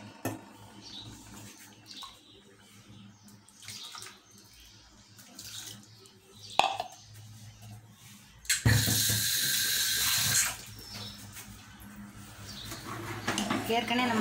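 Water sloshes and splashes loudly for about two seconds as a mixer jar is rinsed in a kitchen, with quieter handling noises and soft water sounds before and after, under occasional talk.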